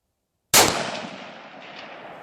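A Spanish 1916 Mauser turn-bolt rifle converted to 7.62x51 CETME fires a single sharp shot after silence, with a bright crack and a long echoing decay fading over about two seconds.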